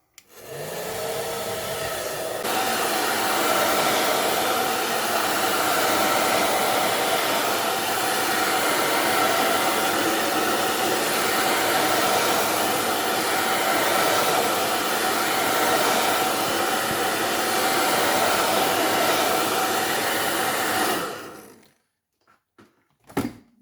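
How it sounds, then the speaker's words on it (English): A hair dryer heating the back glass of a Samsung Galaxy S9 blows steadily and loudly for about twenty seconds, then cuts off abruptly, followed by a few faint clicks. "we're using the wife's hairdryer"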